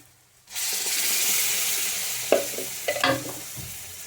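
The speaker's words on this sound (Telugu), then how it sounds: "కొంచెం వేగింది కదా, ఇప్పుడైతే టమాటా పేస్ట్ వేస్తున్నాం" Tomato paste dropped into a hot pan bursts into a sudden loud sizzle after a quiet moment, then keeps frying steadily with a few spoon scrapes and taps.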